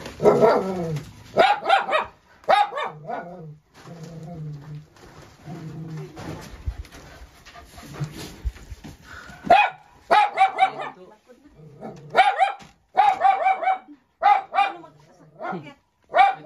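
A dog barks in short bursts several times, mixed with people talking nearby and occasional bird calls.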